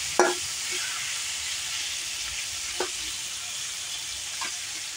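Malabar spinach frying in a hot pan gives a steady, loud sizzle, broken by a few sharp scraping knocks as it is stirred, with no talking.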